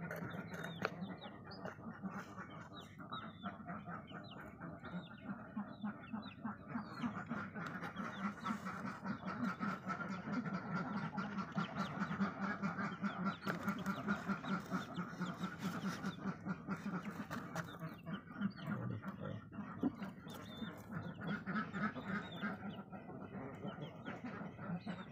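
Muscovy (Barbary) ducks on a farm give steady, continuous low quacking and murmuring from a flock, fairly close and constant throughout with no talking.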